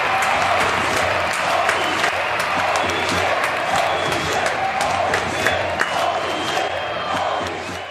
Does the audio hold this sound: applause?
yes